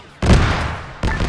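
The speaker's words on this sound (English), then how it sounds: "I'm gonna chuck a rocket out." A rocket launches in the Starsim military game during a jungle ruins operation: a sudden loud blast with a roaring tail, then a second sharp boom about a second later.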